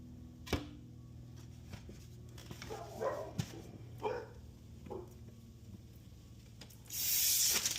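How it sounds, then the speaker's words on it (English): A dog barking outside, heard as a few faint, distant barks scattered over a quiet indoor room, followed by a brief hissing burst at the end. "Enjoy my dog barking outside."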